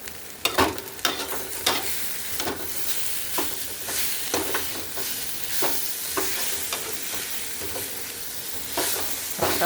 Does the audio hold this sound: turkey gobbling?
no